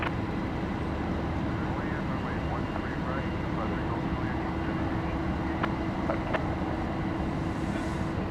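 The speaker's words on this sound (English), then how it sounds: "Got a Cessna Citation Ultra coming in." A Cessna Citation Ultra business jet on a medevac flight lands at Dallas Love Field, producing a steady, unbroken broadband roar that holds evenly for the whole stretch, with faint outdoor background noise mixed in.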